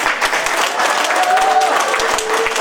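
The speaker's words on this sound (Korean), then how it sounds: "여러분들의 박수 소리만큼 살아있습니다." A crowd at a Korean political town-hall talk with Ahn Cheol-soo in Daegu bursts into loud, dense, continuous applause, with a faint tone drifting through the hall.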